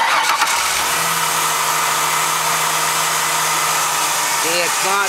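A car engine started for an alternator test with a multimeter, running as a loud, steady, broadband roar close by for the whole stretch.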